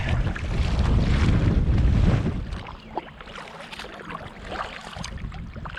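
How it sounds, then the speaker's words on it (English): Strong wind buffets the microphone over open lake water, loud gusts easing into lighter rushing with splashing and choppy waves against an inflatable kayak. "Folks, I can tell you that this wind is no fun."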